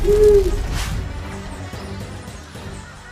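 Eerie owl hoot used as a story sound effect for a frightening owl perched on a tree branch, one clear hoot at the start trailing into a dark, rumbling ambient wash.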